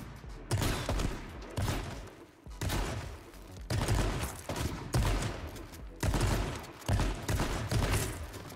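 Bursts of gunfire crackle repeatedly in the survival shooter H1Z1 Just Survive during a PvP fight, several loud sustained volleys separated by brief pauses.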